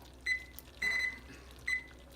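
A kitchen timer on a stovetop gives three short electronic beeps, evenly spaced and moderately loud, with a quiet room in between.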